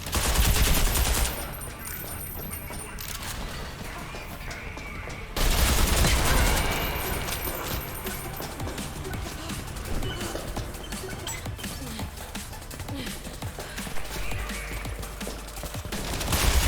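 Rapid automatic gunfire from a gun in Selaco, sustained loud bursts with a brief lull before the shooting resumes heavily, and faint talk buried beneath it.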